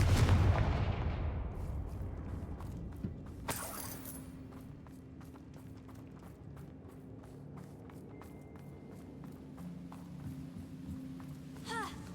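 Confringo fire spell blasts in Hogwarts Legacy: a heavy, booming burst opens the scene, then another sharp blast follows, with scattered thuds, crackles and a low sustained hum of combat behind them.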